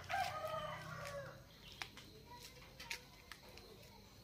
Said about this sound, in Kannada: ನಾನು ಮಾತಾಡ್ತಿರೋದು ಬಿಟ್ಟರೆ ಕೋಳಿ ಕೂಗ್ತಿರೋ ಸೌಂಡು